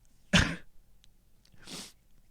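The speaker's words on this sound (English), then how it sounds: "I'm trying to fight off a sneeze here." Two short bursts of a sneeze-like sound, the first sharp and loud, the second softer and breathier, with a quiet pause between them.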